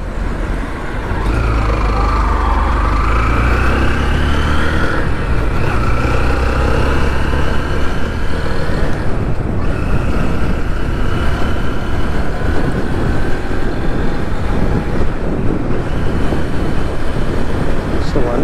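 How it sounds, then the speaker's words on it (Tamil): A new vehicle driven gently through the city gives a steady, fairly loud engine and road rumble with slowly shifting tones, while someone talks throughout. "சும்மா நார்மலாக கிராஜுவலாக தான் நம்ம சிட்டிக்குள்ளே ஓட்டுறேன்."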